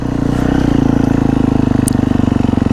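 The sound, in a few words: motorcycle engine warming up and revving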